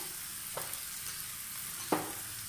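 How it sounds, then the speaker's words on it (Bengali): Cauliflower, carrot and cabbage sizzle quietly in a pan, a soft steady frying hiss broken by two brief louder crackles as the vegetables are added and stirred. "এখন আমি এখানে একে একে ফুলকপি গাজর দিয়ে দিচ্ছি আর বাঁধাকপিটা দিয়ে দিচ্ছি"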